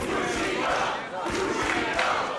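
A capacity wrestling crowd roars and chants throughout a match, a dense continuous wall of voices with individual shouts rising out of it.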